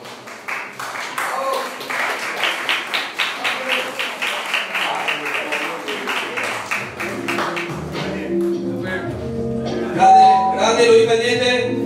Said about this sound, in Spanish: Otro fuerte aplauso, por favor